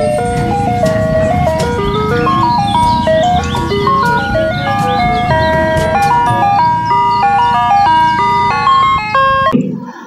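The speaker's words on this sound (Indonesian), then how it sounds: "Yang ini ada mobil es krim." A toy ice cream truck plays its jingle, a bright electronic melody of steady notes running loud and close for about nine seconds before stopping, with a bit of handling noise at the end.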